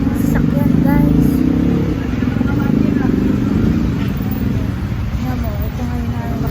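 Steady street traffic with cars and motorcycles passing, a loud continuous engine rumble and road noise close by, with faint background chatter mixed in.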